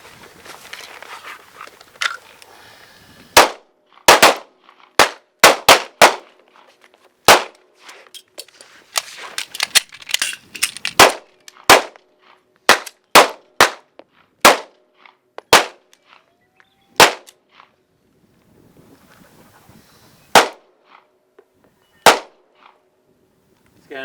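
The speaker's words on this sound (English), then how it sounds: "on the command of fire, we're going to fire 2 rounds" Pistol shots during a defensive shooting drill, a series of sharp loud cracks fired in pairs and quick bursts with gaps for reloading, echoing across an outdoor range, a faint voice briefly at the start.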